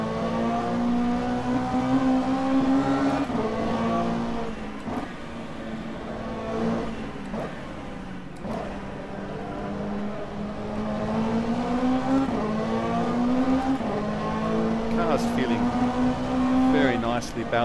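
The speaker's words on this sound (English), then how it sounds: "Sounds like a bit of trombone in the back of the car. Beautiful classic Ferrari noises." Ferrari GT3 race car engine lapping Bathurst in a racing video game, a loud steady high-revving drone with rising and falling pitch through gear changes, brassy trombone-like tone, continuous throughout with a voice talking over it.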